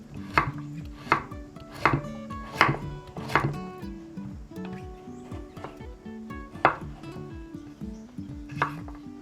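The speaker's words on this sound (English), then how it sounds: "Now I will cut it, but because I will not use a blender, so I will cut it in smaller chunks" A knife chops pumpkin into small chunks on a cutting board for Thai pumpkin soup, sharp repeated knocks in an uneven rhythm with a few brief pauses, close and clear with no talking.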